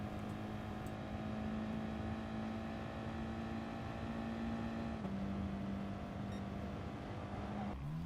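A Gr. 4 racing car engine in Gran Turismo Sport holds a steady, sustained drone at a constant pitch, with a brief gear shift change near the end and no talking.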